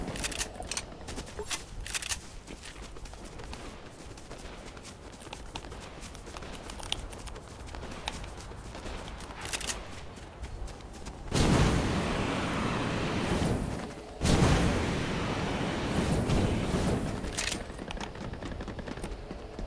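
Fortnite gunshots break out as two loud bursts of firing partway through, after a stretch of softer, busy in-game sound.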